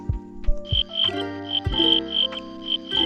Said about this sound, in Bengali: ঝিঝি পোকার ডাক ছাড়া আর কোনো কিছুরই সাড়া পাওয়া যাচ্ছে না